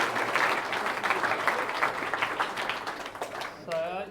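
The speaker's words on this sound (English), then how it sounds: "me put a big round of applause for Glenn for giving up his time tonight" Audience applause for a guest at an evening talk on heat illness and concussion, a dense burst of clapping from a group that thins near the end as a voice starts speaking.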